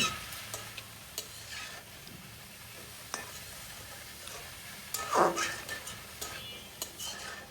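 Cabbage and egg stirred and tossed in a pan, seasoned with chilli powder and salt: quiet, intermittent spatula scrapes with a brief louder rustling burst midway over a faint sizzle.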